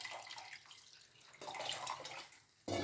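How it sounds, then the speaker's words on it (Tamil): Cooking water left from boiling drumsticks is poured into a pot of soup with a steady, close splashing gush that ebbs and swells, then briefly grows louder near the end. No one talks. "நான் வந்து இதில் இருக்கிற தண்ணியை எடுத்து நான் சேர்த்துக்கிறேன்."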